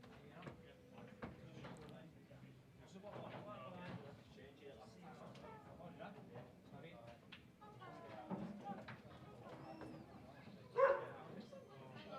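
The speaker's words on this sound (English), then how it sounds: "that dog's frightening everyone." A dog barks at a blackball pool match, with a few short yaps rising over a murmur of people talking in the room and one sharper, louder bark near the end.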